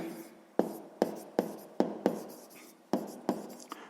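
A pen writes a math exercise solution by hand, with a series of sharp taps and scratchy strokes at an uneven rhythm, close and fairly quiet, no talk over it.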